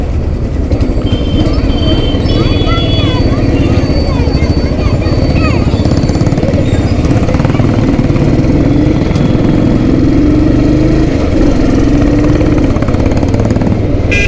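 A Royal Enfield Thunderbird motorcycle engine runs close by with a loud, steady thumping idle that carries on throughout with no voices.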